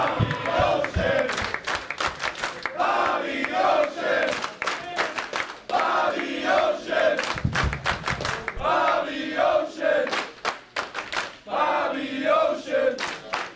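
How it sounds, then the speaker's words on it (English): Wrestling crowd roaring and chanting in loud rhythmic bursts after a triple-threat match, with thumps and yells filling the arena continuously. "Crowd showing their love."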